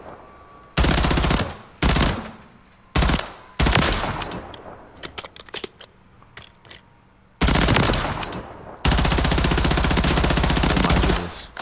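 Automatic weapon fire at a firing range in the video game Modern Warfare 3: long, loud, sustained bursts of rapid shots broken by short pauses, close and alone with no talking.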